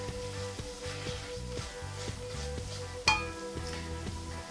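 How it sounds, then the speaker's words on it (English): Onions and beef brisket roasting in a pan give a steady soft sizzle, with a regular low rhythmic thumping underneath and one brighter clink near the end, no talking. "So I'm gonna roast the onions and the briskets together for 5 minutes"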